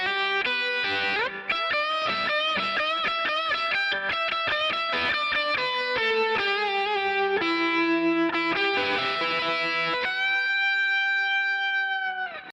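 An electric guitar plays a fast lead line, drenched in reverb and delay, notes echoing and trailing off into a long ringing tail.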